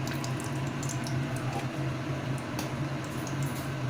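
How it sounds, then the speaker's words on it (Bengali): Half a teaspoon of ghee goes into hot oil in a pan after fish, potato and pointed gourd were fried, giving a steady close bubbling sizzle with faint pops and no talking. "এবার এই তেলের মধ্যে আমি দিয়ে দেব হাফ টিস্পুনের মতো ঘি।"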